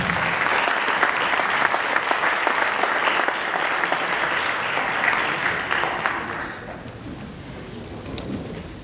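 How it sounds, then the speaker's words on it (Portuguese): An audience applauds after a talk on 5G challenges at a university event, a dense, steady clapping from a room full of people that holds strong for several seconds and then thins out toward the end. "portanto, uma salva de palmas."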